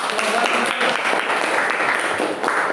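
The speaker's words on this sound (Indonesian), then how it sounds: "Oh, bagus, mantap, tepuk tangan dong" Schoolchildren in a classroom clap in a short burst of dense, close applause, loud and steady, with a few voices mixed in.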